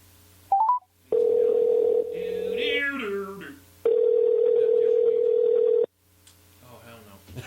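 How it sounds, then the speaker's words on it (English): Telephone tones: a brief dial beep, then a long steady ringback tone, a pause, and a second sustained ring tone, loud and close, with a voice briefly talking in between. "let's make a phone call here"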